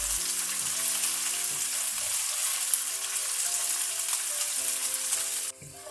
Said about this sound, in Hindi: बादाम डालेंगे, किशमिश डालेंगे और पिस्ते, और इसको हम फ्राई कर लेंगे